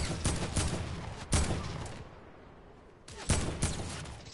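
Bursts of FAMAS rifle fire in the Fortnite video game crackle in quick rapid volleys, pausing briefly before another burst, fairly close but modest in level.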